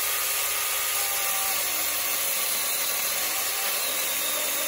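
A cordless, one-handed power tool cuts into wood during a woodturning project, giving a steady, loud, close whirring buzz that holds constant for several seconds without talk.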